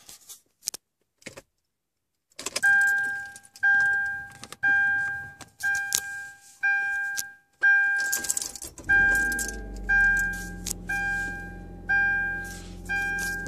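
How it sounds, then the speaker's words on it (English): A car's ignition is switched on, with keys jangling faintly, then a run of regular electronic chimes repeating about once a second as the engine idles low underneath. "I want to turn my car on."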